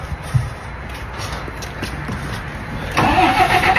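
A tour bus engine in Scotland turning over and catching near the end, rising into a steady mid-pitched idle after a stretch of quieter background rumble, with no talk.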